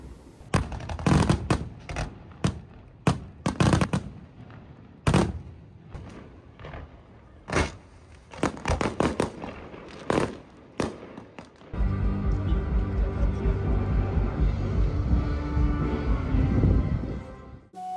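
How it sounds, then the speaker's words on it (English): A Bastille Day fireworks display in Saumur, France, sends out irregular sharp bangs and cracking bursts at varying distances, then a dense, continuous crackling barrage that rolls on steadily to the end. "it's very customary for each town or city to be holding their own fireworks display"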